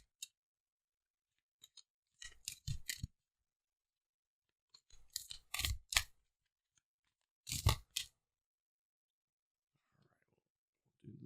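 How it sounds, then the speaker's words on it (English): Tarot and oracle cards are shuffled and pulled, giving three quiet clusters of riffling, papery flicks and slides separated by silence, with faint whispering nearby. "See if I can pull 1 or 2 cards for you on this current warning."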